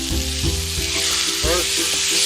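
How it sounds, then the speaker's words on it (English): Garlic hitting a hot pan for a salmon dish, giving a loud, steady sizzle and crackle with a few sharper pops and spatters, close and continuous with no talking. "garlic, and we're going to put it in our nice hot pan"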